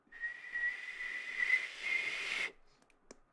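A person whistles a single sustained high note in imitation of a kettle's whistle, held for about two seconds with slight wavering, then stops abruptly, followed by a faint click.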